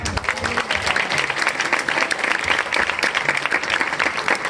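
Steady, energetic applause from an audience for a school steel band, continuous crowd clapping throughout with no pauses.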